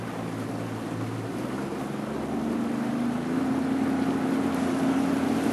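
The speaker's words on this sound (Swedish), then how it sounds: "Kör du båten Vicky?" A motorboat engine drones steadily at close range on a fishing trip, its pitch rising slightly as it speeds up, with water and wind noise around it.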